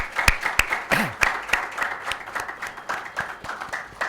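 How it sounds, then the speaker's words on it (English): Applause for faculty members at a diploma awarding ceremony: a modest audience clapping, with individual sharp claps standing out near and loud above a thinner patter of hands throughout. "a big round of applause for the faculty members"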